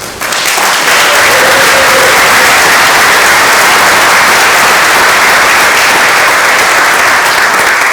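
A school athletic awards ceremony audience gives a loud, sustained round of applause for the class of 2025 Athletic Hall of Fame inductees, dense continuous clapping starting suddenly and holding steady throughout, with no speech.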